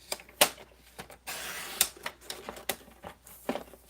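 Craft paper trimmed on a paper trimmer: a run of sharp clicks and taps, with a brief hissing slide of the blade in the middle, close and quiet, no talking.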